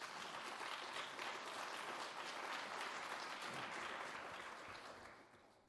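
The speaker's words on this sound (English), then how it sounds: "So we're going to please another hand of applause for Fernando" Audience applause at a scientific conference, a dense, steady wash of many hands clapping from a large crowd, sustained for several seconds before tapering off at the end.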